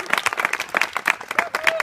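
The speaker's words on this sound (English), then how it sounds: "everyone should give you a round of applause" Guests at a toast for Dennis and Paula break into brief, patchy applause, scattered claps mixed with cheers and voices close by.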